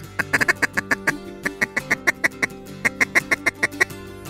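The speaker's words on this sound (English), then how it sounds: "That's a green-winged teal that just went by." Wild ducks, including wigeon and green-winged teal, call in quick repeated bursts of quacks and short whistles, fairly close and clear, with brief pauses between runs.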